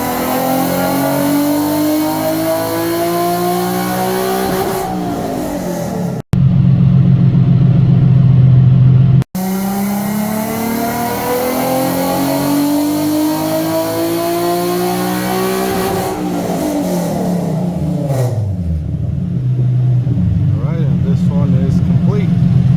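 A Nissan G37 six-speed sedan with 3-inch intakes and single-exit exhaust runs on a dyno, its engine rising in repeated loud full-throttle pulls through the gears, with a brief lower-pitched lull before the next long climbing rev.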